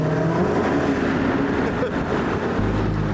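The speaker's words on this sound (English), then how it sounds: "You can hear the supercharger winding up front" A supercharged Dodge Hellcat Red Eye with over 800 horsepower drives into a tunnel, a loud steady engine drone with a rising whine that swells toward the end.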